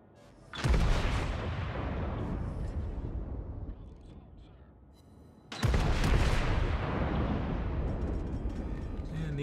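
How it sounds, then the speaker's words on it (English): Naval artillery in World of Warships fires high-explosive shells in two heavy booming salvos several seconds apart, each a sharp loud blast trailing into a long rumbling roar. "You're firing HE at me, which is a little surprising"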